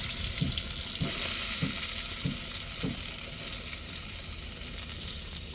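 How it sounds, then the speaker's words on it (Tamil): Onion, tomato and chili sauté in a pan for a dried fish fry, a steady close sizzle broken by about five rhythmic stirring scrapes early on. "கருவாட்டு பொரியலுக்கு வெங்காயம் தக்காளி மிளகாய் இதெல்லாம் நல்லா வதக்கிக்கிடுவோம்."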